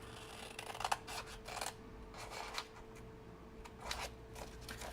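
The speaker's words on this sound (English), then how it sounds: "So I'm cutting straight here and straight on this side too." Scissors snip through a notecard in a quiet room, making a series of soft, crisp cuts in an uneven rhythm, heard close and faint.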